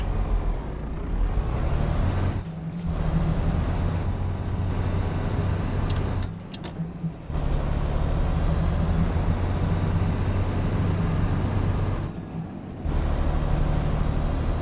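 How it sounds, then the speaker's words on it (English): A truck's air brake releases in a loud hiss over a constant low idling diesel engine in a trucking simulator game, with a few short breaks and faint tonal beeps overhead. "Oh, parking brake."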